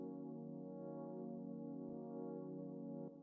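FM synth pad with an LFO swelling the volume of oscillator B, a quiet sustained chord that gently pulses louder and softer, heard alone with faint clicks beneath it.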